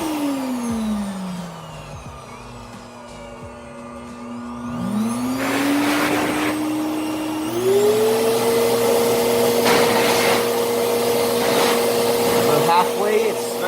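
An SGCB water dryer blower for car washing whirs up from the dial, motor pitch sliding down, then climbing and settling into a loud steady roar, close to the listener, with speech over it.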